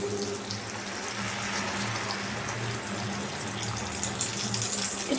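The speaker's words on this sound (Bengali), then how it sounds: "আমি তাই জন্য আগে এখানে একটু জল দিয়ে দিচ্ছি" Water pours into a cooking pan of aloo gobi in a steady rushing stream, loud and close and lasting several seconds without talk.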